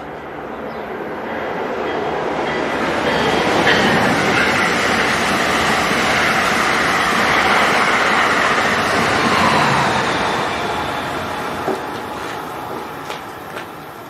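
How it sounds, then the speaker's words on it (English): Westbound New Jersey Transit train passing through Princeton Junction station, a loud sustained rumble and rail roar that builds, holds for several seconds and gradually fades, with faint clicks near the end. "That was an unknown westbound New Jersey Transit train passing through at 1:03 p.m."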